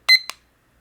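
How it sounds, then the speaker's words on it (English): A small productivity timer goes off with two quick, bright electronic chirps, loud and close, then falls silent. "I love this little timer."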